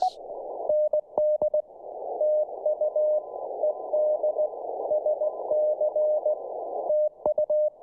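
A steady Morse code sidetone beeps in quick dits and dahs, a clean single pitch over faint hiss, fairly loud and continuous.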